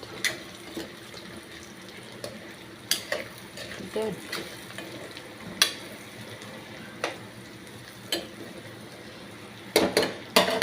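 Brinjal curry is stir-fried in a pan, with a soft sizzle under repeated scraping and clinking of a spoon against the pan at close range.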